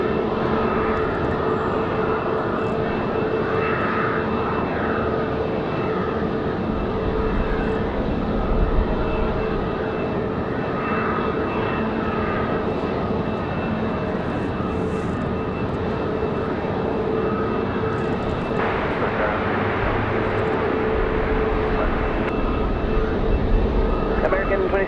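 A Delta Airbus A319 jet arriving from Boston comes in to land at Raleigh-Durham on a windy day, its engine roar steady and broad throughout under continuous wind buffeting.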